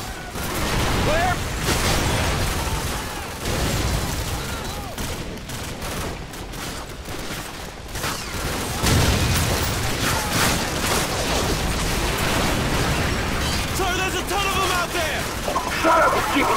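Dense gunfire and explosions in a Call of Duty 4 battle at a bog, with rapid sustained bursts and heavy booms throughout, under shouted soldier voices.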